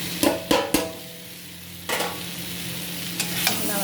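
Fried taro pieces are sautéed with spices in a pan for a potato and taro curry, sharp scraping stirs in quick bursts over a steady low sizzle, close up with no talking.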